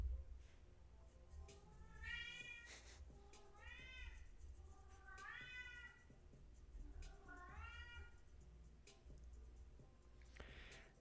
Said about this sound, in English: don't know if you guys can hear my cat in the background.